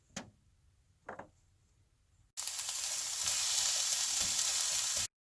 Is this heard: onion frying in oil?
yes